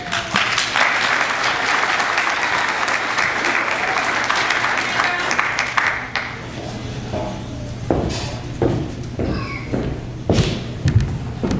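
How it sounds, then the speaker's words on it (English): An audience at a stage pitch event applauds as a speaker walks onstage, with sustained dense clapping that thins out after about six seconds into scattered claps, footstep-like thumps and light shuffling. "let's give her applause as she enters the stage"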